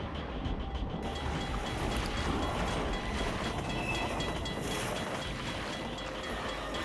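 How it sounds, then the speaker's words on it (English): A train rumbles past in the Half-Life 2 video game, a steady, loud, dense roar lasting the whole stretch with a faint hiss of wind over it and no talk. "Another train?"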